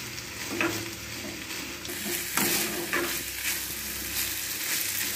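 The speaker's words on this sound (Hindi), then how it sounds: "इसको हम तकरीबन एक से दो मिनट तक इसके अंदर फ्राई करेंगे ताकि हमारी वेजिटेबल थोड़ी सॉफ्ट हो जाए" Chicken with capsicum and spring onion stir-frying in a pan, a steady close sizzle with repeated scraping stirs and light clinks of a utensil against the pan, no voices.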